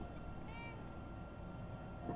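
Short cat meow from the video game Fallout 4, a single brief call early on, quiet over a constant low background hum.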